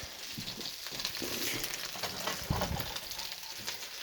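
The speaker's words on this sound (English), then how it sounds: "the turkey bacon has a nice sizzle going on one side, just dropped it in" Turkey bacon sizzles and crackles in a hot pan, a dense, steady frying hiss with scattered pops throughout.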